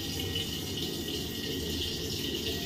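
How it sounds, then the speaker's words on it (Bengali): Hot water runs steadily from a kitchen tap, a continuous broadband hiss and splash that holds level and close throughout with no talk. "কলে এখন এত গরম জল আসছে"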